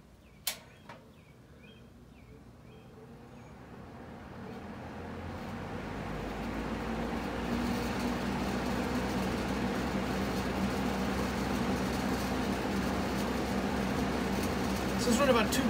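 Vintage Galaxy box fan spinning up to its high setting, a steady broadband whoosh that builds gradually from quiet to full airflow, close by, with a couple of handling knocks at the start.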